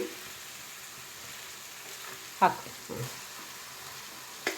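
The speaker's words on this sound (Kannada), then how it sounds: "ಇದನ್ನು ಚೆಂದಾಗಿ ಫ್ರೈ ಮಾಡಬೇಕು." A quiet, continuous sizzle comes from onions frying in a pan, broken by a few light clinks and scrapes of a utensil against the pan.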